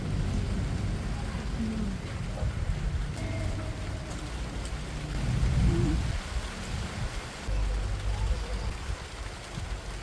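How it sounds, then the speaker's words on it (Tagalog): Heavy rain pouring down during a sudden downpour at an outdoor meal in the Philippines, a dense continuous hiss with low rumbling and a few brief vocal sounds mixed in. "Ay bigla pong bumuhos na ang ulan."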